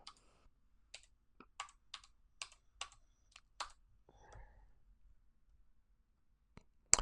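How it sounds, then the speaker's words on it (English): Quiet keyboard typing: a string of separate key clicks at an uneven pace, then a pause with a faint rustle and a final louder click. "what you see me typing in here"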